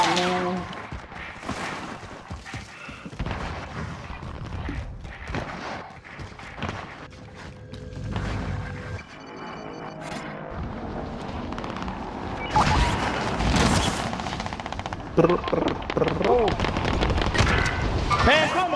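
Rapid bursts of gunfire from a video game firefight crackle through the scene, automatic weapons chattering in loud volleys while players shout and talk over the shooting.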